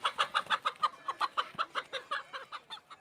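Chickens cluck in a steady run of about fifteen short, evenly spaced calls, fairly close and clear, with no talking over them.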